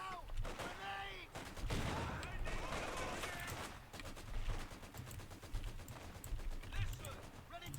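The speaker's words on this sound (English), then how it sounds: "There's a machine gun set up here, actually." Machine gun fire in Company of Heroes 2, bursts of rapid shots amid scattered battlefield gunfire and effects, continuing through the whole stretch at moderate loudness.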